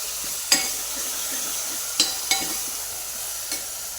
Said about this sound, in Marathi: त्याच्यामध्ये आपण टोमॅटो टाकणार आहे टोमॅटो पण छान परतून घ्यायचं